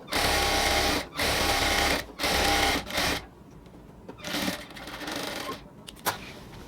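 Sewing machine stitching a cut salwar pant, several loud close bursts of rapid whirring separated by short gaps, then quieter intermittent running with clicks.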